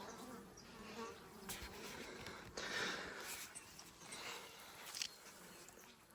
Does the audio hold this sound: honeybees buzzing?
yes